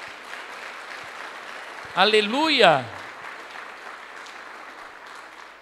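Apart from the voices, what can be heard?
applause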